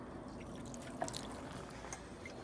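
Water drips and trickles off freshly waxed paint on a Ford Escort RS Turbo, quiet scattered droplets over a soft wet hiss.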